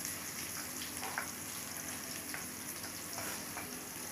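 Ginger garlic paste frying in hot oil in a pan, a soft continuous sizzle with faint crackles and occasional stirring scrapes, quiet and close with no talking.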